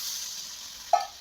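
Water poured into a hot pan of frying potatoes and eggplant for a katla fish curry: a steady close sizzle that flares into a brief louder hiss, then fades.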